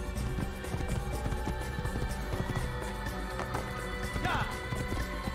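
Horse hooves galloping in Assassin's Creed, a rapid continuous clip-clop running throughout over ambient game sound, fairly close and steady.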